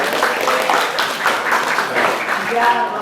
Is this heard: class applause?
yes